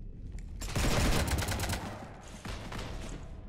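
A dense burst of rapid gunfire in the video game Mass Effect 3, a loud volley of cracks that fades and then returns more faintly.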